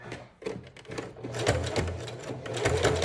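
Short bursts of a sewing machine stitching custom streetwear jeans with leather, quick rhythmic needle clatter close by, starting and stopping several times.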